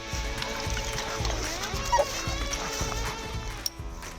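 Coonhound trail barking during a raccoon hunt outdoors, a steady rhythmic string of bawling barks at regular intervals, heard from a moderate distance.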